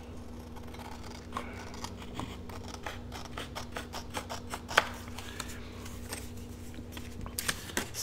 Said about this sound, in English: I'm going to go ahead and trim this first